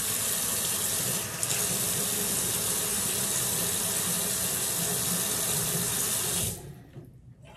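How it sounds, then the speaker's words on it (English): A bathroom tap runs steadily into a sink while cold water is splashed on a face, a loud continuous gush that stops abruptly near the end. "it's no rinse, but I still like to put some cold water on my"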